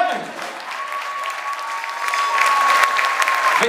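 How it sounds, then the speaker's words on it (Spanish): Crowd applauding at a live band concert in an auditorium, sustained clapping and cheering with a faint voice over it. "Fuerte el aplauso"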